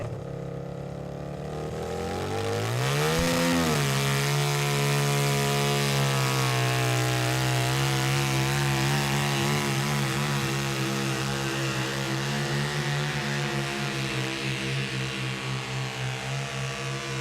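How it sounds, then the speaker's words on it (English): A garden pulling tractor fitted with a 650 Honda engine roars up to full revs after a short idle, then holds a loud, steady, strained drone for the rest of the pull at a county fair tractor pull. "He actually has a 650 Honda engine in here."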